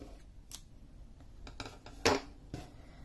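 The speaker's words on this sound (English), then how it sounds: "take our scissors," Scissors cutting yarn while finishing a crochet cactus bookmark, with a few quiet, sharp snips spaced apart and one louder cut near the end, heard close and alone.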